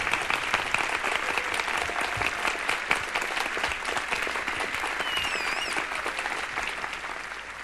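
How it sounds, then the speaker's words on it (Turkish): Audience applause at a festival in Bakhchysarai, Crimea, after a Crimean Tatar ensemble performance: dense, steady clapping that fills the whole stretch at an even loudness, with a few whistles cutting through near the end. "Alkışlayımız, alkışlayımız."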